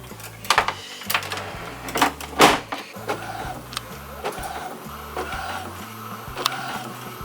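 A photo printer at a photography exhibition prints pictures and jams on paper, giving bursts of mechanical whirring, rhythmic clicking and clattering feed noises.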